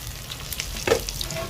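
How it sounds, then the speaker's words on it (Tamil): Fish sizzles in a hot pan for a Mayavaram-style fish curry, giving a short burst of crackling frying with a brief stirring scrape near the middle. "மீன் வறுவல் போயிட்டு இருக்குது."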